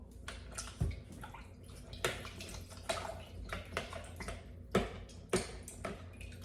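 Water poured to top off a full jug of lemon water splashes and trickles irregularly, with small clinks and ticks, close up.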